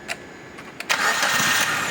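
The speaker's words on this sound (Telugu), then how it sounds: "మళ్ళీ స్టార్ట్ చేస్తున్నాను చూడండి అన్న ఇంజిన్." A 2018 Maruti Baleno Delta petrol car cranks briefly, then its engine catches and settles into a steady, quiet hum, heard up close with no talking.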